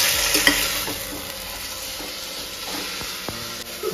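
Onions sizzle steadily in a hot pan with ginger garlic paste while being stirred, with scraping spoon strokes over a continuous close frying hiss.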